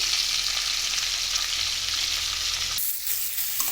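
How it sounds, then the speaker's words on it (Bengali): Spice paste fries in hot oil for a crab curry with a steady crackling sizzle that drops off sharply near the end. "এখানে ভেজে নিচ্ছি ভাজা হয়ে এসছে"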